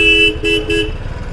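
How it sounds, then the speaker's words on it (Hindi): Three short, loud honks from the horn of a 2019 Royal Enfield Classic 350 motorcycle in quick succession, close up, with engine idle rumbling underneath. "इसका हॉर्न मैं आपको सुना देता हूँ।"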